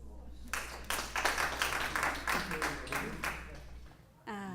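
An audience at an academic conference claps for a speaker, a short burst of applause that swells and then fades out, followed by a voice beginning to speak.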